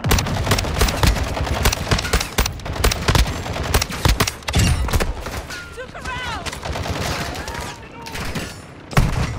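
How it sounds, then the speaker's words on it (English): Heavy gunfire in the video game Call of Duty DMZ, rapid bursts of shots crackling close by in dense volleys, with a short lull and faint whistling tones partway through before more shots. "We got gunfire."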